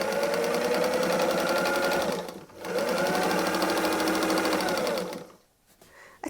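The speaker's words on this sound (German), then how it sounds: "Mit einem 1/4 Inch Nahtzugabe nähen wir einmal um unseren Stern herum und lassen eine Wendeöffnung." A sewing machine stitches around a patchwork fabric star with a quarter-inch seam allowance, running loud and steady in two long, even bursts with a brief pause between them and a stop near the end.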